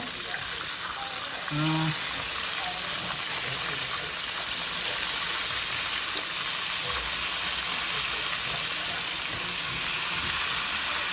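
Chicken pieces fry in oil with a steady, even sizzle that fills the whole stretch. A brief clink and light movement come near the start.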